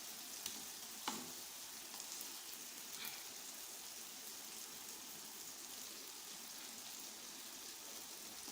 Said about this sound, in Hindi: अभी हम इसके अंदर ये चिकन ऐड करेंगे।